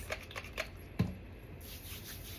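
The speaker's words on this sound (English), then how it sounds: "I decided to come on the table and shuffle some cards" Tarot cards shuffled on a table: a few quiet, papery riffles and taps, including one sharper snap near the middle, fairly close but soft against a low room hiss.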